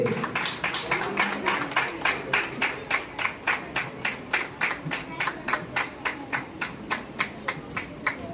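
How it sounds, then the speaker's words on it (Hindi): An audience at a comedian talent-hunt competition in Bhubaneswar claps in a steady, even rhythm, about two to three claps each second. The clapping is fairly faint and continues throughout. "ताली ताली"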